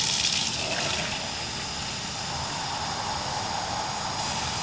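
Water gushes and splashes steadily into a pot while the cooking liquid for mung bean soup is readied, a continuous pouring rush that stays even throughout with no talking.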